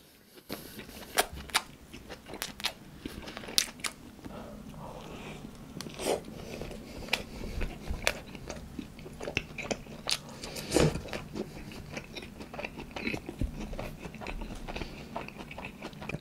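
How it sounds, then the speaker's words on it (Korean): Someone bites into and chews a Burger King Cheesella Whopper with bacon, close and crisp, with repeated crunchy bites and wet chewing throughout and no talking. "이름이 치즈렐라 와퍼. 한번 먹을게요."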